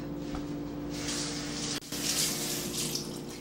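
Tap water runs steadily over carrots being rinsed in a kitchen sink, a continuous close splashing hiss with one brief dip partway through.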